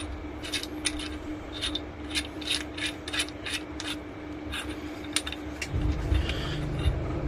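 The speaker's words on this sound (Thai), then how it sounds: "เอา หัวสว่านที่แถมมาเมื่อกี้นะครับกับอะแดปเตอร์เนี่ยนะฮะเอามาประกอบกันนะครับ" Small metal parts click and clatter in irregular bursts close by as a drill chuck is fitted and turned onto an adapter for a cordless rotary hammer, over a low steady hum.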